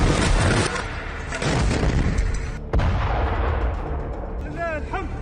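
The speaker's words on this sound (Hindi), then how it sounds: "इजरायली टैंक में एक धमाके का वीडियो आपको दिखाते हैं।" A blast hits an Israeli Merkava tank in combat: a loud, heavy boom that decays into rumble, a second sharp crack partway through, then lingering noise with faint high whistling tones.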